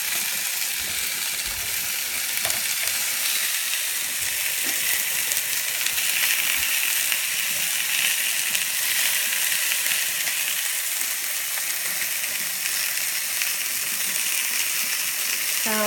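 Chicken pieces frying in a pan give a steady, even sizzle that holds all the way through, with occasional faint clicks and scrapes from the pieces being moved.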